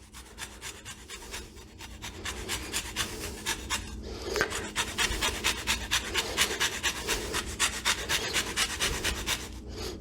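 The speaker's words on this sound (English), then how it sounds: "when you're zesting the lemon, you want to try, you just want to get the lemon part" A new zester scrapes rhythmically across a lemon rind, producing a rapid series of close, raspy filing strokes that pause briefly partway through and then continue at a quiet level.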